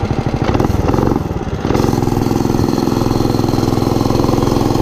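A Coleman BT200X mini bike's small engine runs close and loud, a steady buzzing drone after a brief rev and dip at the start, with no voices.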